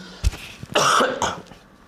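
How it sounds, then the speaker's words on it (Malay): A single close, harsh cough with a short throat-clearing burst, followed by a quieter trailing breath. "sorry batuk."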